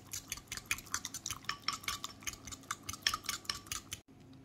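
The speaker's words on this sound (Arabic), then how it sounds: "بخلط المكونات كلها مع بعضها بالشكل ده" Spice marinade ingredients for garlic-lemon chicken get mixed together, with quick, soft rhythmic clicks and scrapes repeating steadily, fairly quiet and close, with no talking.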